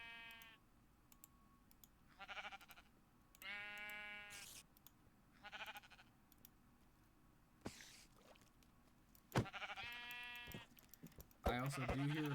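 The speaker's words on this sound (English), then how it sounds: "Let's craft a sword to murder these sheep." Sheep in Minecraft bleat several times in short wavering calls spaced a second or two apart, mixed with a few sharp clicks and game sound effects.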